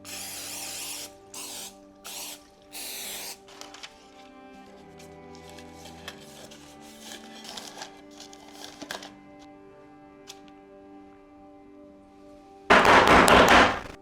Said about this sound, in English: Spray it just a little bit more.